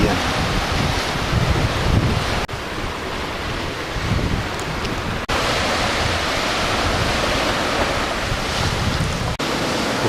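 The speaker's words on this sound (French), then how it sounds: "Aujourd'hui, il y a du vent et la mer est un peu agitée." Strong wind roars across the microphone over the steady crash and wash of rough Mediterranean sea waves on the coast near Monaco, continuous and loud throughout.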